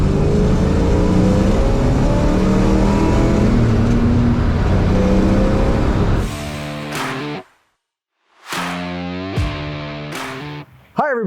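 A 1961 Corvette engine runs loud and distorted for several seconds, then drops out briefly between bursts of revving. The sound is rough and heavily clipped throughout.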